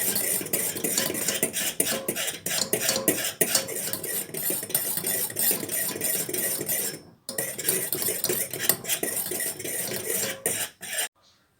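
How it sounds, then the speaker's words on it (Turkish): Vanilla being stirred into salep in a pot, a spoon scraping and clinking steadily against the metal with quick repeated strokes, close and loud, pausing briefly near the end. "Vanilyamı karıştırarak salyabime yediriyorum."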